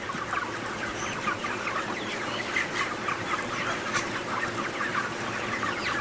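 A large flock of broiler chickens in a crowded poultry house clucks and chatters continuously, many overlapping calls forming a busy, steady din with no talking.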